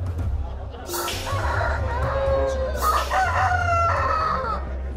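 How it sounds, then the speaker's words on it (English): Two roosters fighting squawk and crow loudly in a harsh, agitated back-and-forth, with wingbeats and scuffling over steady background noise. "watching two roosters rip each other to shreds"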